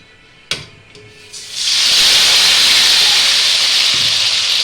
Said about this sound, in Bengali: কড়াই তেল দিয়েছি তেল গরম হয়ে গেছে এবারে আমি টমেটোটা দিয়ে দেব